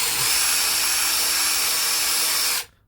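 A handheld drill spins a buffing pad used for scratch removal, giving a steady high whirring whine that runs evenly for over two seconds before quickly spinning down and stopping.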